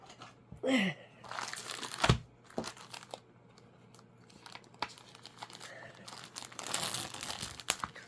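Wrapping paper crinkles and tears as a birthday gift is unwrapped, with close, irregular rustling and crackling and a sharp rip near the start.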